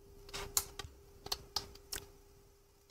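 Typing on a computer keyboard, with a handful of distinct, close key clicks in an irregular rhythm across a few seconds and no talking.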